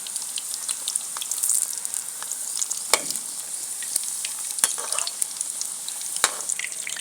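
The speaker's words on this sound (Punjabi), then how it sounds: "ਇਹਨਾਂ ਨੂੰ ਆਪਾਂ ਤਲ ਕੇ ਕੱਢ ਲਾਂਗੇ" Stuffed bitter gourds (bharva karela) fry steadily in hot oil, a continuous bright sizzle with small pops and crackles, close and alone without any talk.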